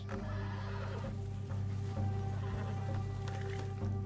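A horse whinnies loudly in Red Dead Redemption over a steady low hum, with soft hoof clops and game-like ambience around it.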